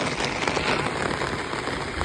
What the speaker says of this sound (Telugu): వర్షం మంచిగా పడుతున్నది